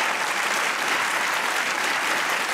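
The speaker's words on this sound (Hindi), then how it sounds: "इर्जा के लिए ताली होनी चाहिए यार" Studio audience on a TV comedy talk show applauds steadily, a dense, even wash of many hands clapping close and loud throughout, with no talk over it.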